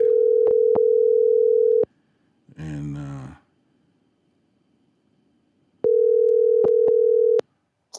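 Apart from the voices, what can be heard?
telephone dial tone while placing a call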